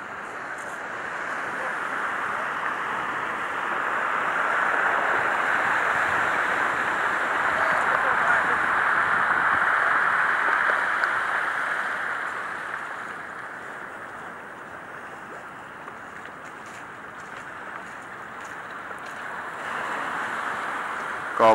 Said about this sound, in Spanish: Mirad, pues, la fuerza que lleva la corriente.